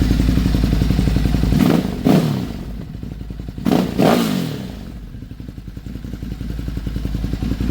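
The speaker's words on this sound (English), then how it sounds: "Up to temp, let's give it a couple revs." A Ducati Hypermotard 950SP, warmed up, idles with a lumpy, steady throb and is blipped twice, each rev rising sharply and falling back to idle, close and loud.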